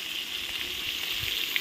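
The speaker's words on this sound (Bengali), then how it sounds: "এই কড়াইতে তেল বসিয়ে দিয়েছি, ধমধম মাছগুলো ভেজে নিই" Fish frying in hot oil in a wok: a steady, close crackling sizzle with a few louder pops, and no voices.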